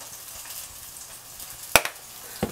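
Spices for swordfish tacos sizzle in a pan, a soft steady frying hiss broken by one sharp clack of a utensil and a smaller knock shortly after.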